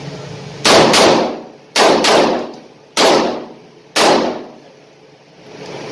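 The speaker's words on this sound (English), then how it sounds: "Just did 6 shots, but really I'd have 1 more." Six shots from a .357 Magnum handgun ring out in close succession, loud sharp reports in pairs and singles, each with a ringing decay and no voices.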